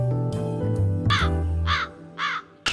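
A crow in a Tamil TV serial scene caws four times in a row, harsh and fairly close, over a low music bed.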